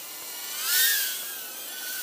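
A FuriBee F36 mini quadcopter drone flying outdoors in central New York, its high-pitched whining buzz steady and fairly close, swelling louder for a moment as it passes nearer, then easing back.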